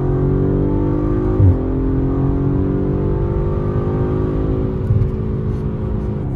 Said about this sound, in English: We're in an RS5 right now, and we're going to chase the S5 down these roads